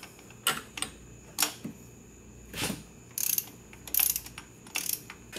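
Ratchet wrench clicking in several short bursts while tightening an intake bolt on a 2003-2004 Cadillac CTS, crisp and close with brief pauses between pulls and no talking.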